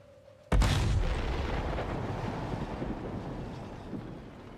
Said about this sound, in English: V2 will fire, but the capsule won't open. Just gotta sit back and watch the fireworks.